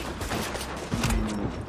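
Gunfire in the video game The Division, a short dense burst of rapid shots layered with game noise, loud and close for under two seconds.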